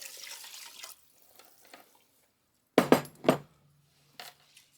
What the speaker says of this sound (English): Then we're going to add 3 cups of water to the pot.